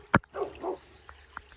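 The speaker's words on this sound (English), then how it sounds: "he's barking at the cows." A dog barking at cows, one sharp near bark followed by softer yips and whimpering grunts, then a couple of faint distant yelps over quiet outdoor background.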